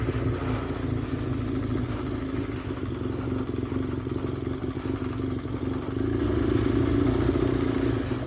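A big-bike motorcycle engine runs steadily on an off-road trail, a close, continuous rumble with clattering mechanical texture that grows slightly louder and rougher in the last couple of seconds, with no talking.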